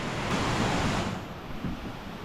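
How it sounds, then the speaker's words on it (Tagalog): Floodwater rushing hard through a place in the Philippines, a loud, steady broadband roar that barely changes over the couple of seconds, with no voices heard. "sobrang lakas po pala ng naging tubig dito ng baha"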